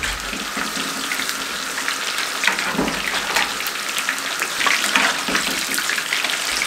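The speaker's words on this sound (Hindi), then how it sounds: "इसको फ्राई होते हुए 7 मिनट हो गए।" Lahori-style fish pieces fry steadily in hot oil, a dense continuous hiss with crackling pops throughout, loud and close with no voices.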